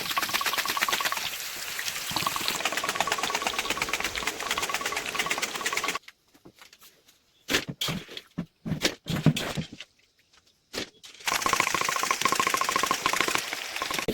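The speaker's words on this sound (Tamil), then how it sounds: "சீவுறது தான் சீவுறேன் நான் மிஷினால் சீவுறேன்" Cassava is sliced by a machine for crispy fried tapioca, a loud whirring, rattling drone that cuts out partway for a few short bursts and gaps before starting up again at full strength.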